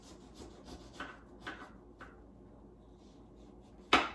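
Lemon halves twisted on a citrus reamer give a series of short rasping, rubbing strokes at close range with no talk, ending in one sharper knock.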